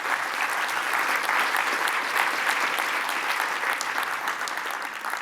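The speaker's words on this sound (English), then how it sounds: "first a big round of applause to yourselves" An audience at a philanthropy panel applauds with steady, dense clapping that holds evenly throughout, with no voices standing out.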